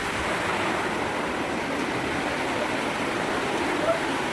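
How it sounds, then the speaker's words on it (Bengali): Water flows steadily into a kitchen, a constant rushing wash with no break, close and moderately loud. "রান্নাঘরে জল ঢুকে গেল এবার কি হবে"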